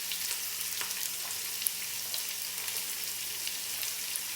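Two medium onions fry in a pan for chicken pasta, giving a soft, even sizzling hiss with faint scattered crackles, fairly quiet and steady, with no voices.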